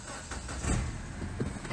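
A 2008 Mini Cooper Base with a misfire runs with a steady, close engine rumble and a slight swell in the middle, with no one talking.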